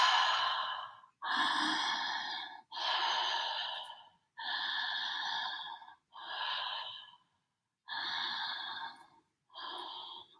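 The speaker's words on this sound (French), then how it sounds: "Tu inspires et tu expires sans pousser l'expire, sans pousser l'expire." Slow, steady breathing exercise with relaxed inhales and exhales, about seven long breaths in a row, each close and clearly audible with short pauses between them, unhurried and even.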